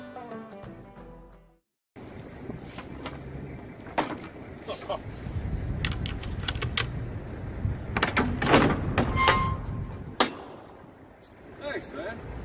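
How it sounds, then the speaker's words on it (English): Steel shipping container doors being opened and closed, with a series of loud metallic clanks, bangs and scrapes amid outdoor wind noise, and voices faintly heard in the background. "trying to open and close difficult container doors"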